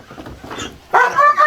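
Police K-9 dog barking during a suspect search, a few loud, close barks in the second half, following a stretch of low indistinct sound.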